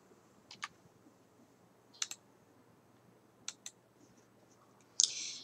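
A computer mouse clicks while working through a PowerPoint layout menu: pairs of sharp, close clicks spaced about every second and a half, with a louder click burst at the end over quiet room background.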